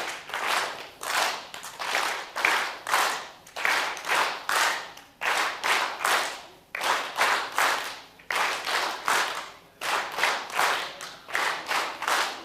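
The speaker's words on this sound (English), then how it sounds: "So who knows the song you just created with your claps?" An audience claps hands together in a tight rhythmic pattern, bursts of several claps broken by short pauses and repeated steadily, loud and close with no talking.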